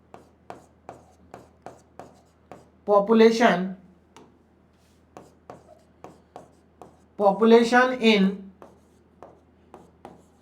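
Chalk or marker strokes on a classroom board during a maths lecture, a string of short, evenly spaced taps and scrapes, close and crisp, with two brief bursts of a man's speech between them.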